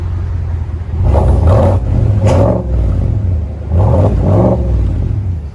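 A GMC/Chevy 6.2L V8 truck with an upgraded exhaust revs in two repeated bursts over a deep idling rumble, loud and close, each rev swelling and falling back to the low burble.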